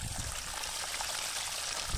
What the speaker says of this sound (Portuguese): Mas não, tropa, é água descendo aqui, ó.